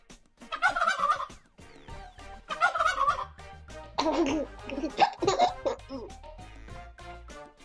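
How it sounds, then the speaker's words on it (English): Turkey gobbling in a farm-animal sound sequence, several rapid, bubbling gobble bursts in a row, loud and close, with laughter-like warbling tones mixed in. "Turkey."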